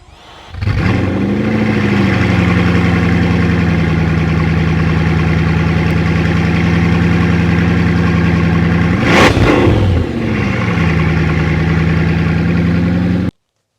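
A Bugatti Chiron Sport hypercar fires up and settles into a deep, steady idle heard close from outside, with one sharp throttle blip midway before it drops back to idle and cuts off.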